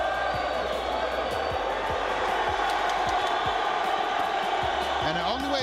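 An arena crowd at a fight roars continuously, cheering and shouting in a dense, loud wash with scattered sharp thuds and whoops, and a voice rising out of the noise near the end.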